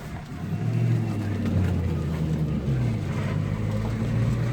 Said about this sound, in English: Car's very quiet until I said you hit the gas and it just opens up. The exhaust sounds good.